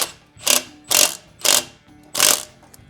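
A chain hoist being rigged to lift the 4.0 engine out of a Jeep Cherokee XJ gives four loud, evenly spaced ratcheting clacks, close by, with no talk.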